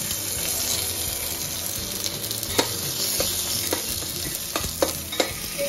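Cumin and dried red chili crackle and sizzle in hot ghee for a dal dish, a dense steady hiss with scattered sharp pops and a few stirring scrapes, close and continuous.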